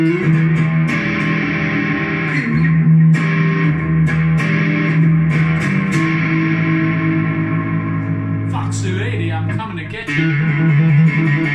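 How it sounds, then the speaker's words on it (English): Electric guitar played through a Mooer Hornet amp with reverb and distortion, a steady sustained stream of overdriven chords and notes with a short pause near the end before playing resumes. "You've got reverb and everything. You've got dirt on this amp."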